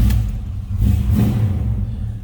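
A 1980 Chevrolet Camaro Z28 engine runs loud and close, a deep throaty rumble with a couple of swelling revs.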